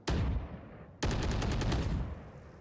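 Gunfire in a shooter video game, fired through the floor: two loud bursts, a single sharp bang followed by a rapid, sustained volley of shots about a second later, heard with no talking.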